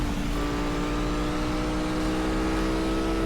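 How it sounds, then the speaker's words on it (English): Lamborghini Huracán V10 engine in the racing game Asphalt 8, a loud sustained high-revving drone that holds steady throughout, with no voices over it. "So yeah, this is what V10s are supposed to sound like."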